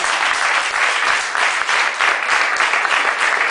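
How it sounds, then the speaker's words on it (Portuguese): Church congregation applauding together, a dense, steady burst of many hands clapping close by for about three and a half seconds, with no talk over it. "Dá uma salva de palmas para o Senhor Jesus."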